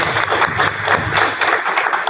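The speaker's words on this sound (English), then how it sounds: "can we just applaud for you that way?" Church congregation applauding a couple's 59th wedding anniversary during a Sunday worship service, steady close clapping from a modest crowd that carries on evenly for a couple of seconds.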